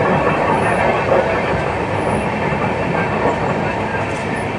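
A train rumbles steadily onto a bypass line heading toward Visakhapatnam, its wheels clattering over the tracks in a loud, continuous roar heard from inside a general coach.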